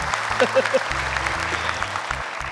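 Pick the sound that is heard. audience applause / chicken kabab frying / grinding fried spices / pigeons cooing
audience applause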